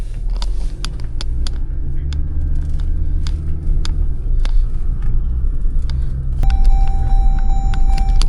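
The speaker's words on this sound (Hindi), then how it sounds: "बट इससे गाड़ी स्टार्ट हो जाती है जनरली बिकॉज इंजन घूमता है" A diesel Mahindra Thar cranks and tries to start in -25°C winter cold in Spiti, a loud, steady low engine rumble with repeated clicks and rattles, and a sustained tone rising near the end.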